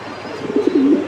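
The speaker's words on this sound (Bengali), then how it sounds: "এইখানেও লালমুখী কবুতর রানিং জোড়া" A breeding pair of red-faced pigeons gives a loud, close cooing call, rising in a few rolling pulses over roughly half a second with no talk.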